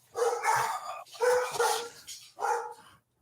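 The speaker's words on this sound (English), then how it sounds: "the dogs are having a moment." Dogs barking nearby, with the male dog especially worked up, in three loud, close bursts of rapid barks separated by short pauses.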